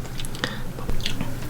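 Close-up chewing of green papaya salad with Lao sausage, wet crunchy bites and squishy mastication in a steady rhythm, loud and near with no talking.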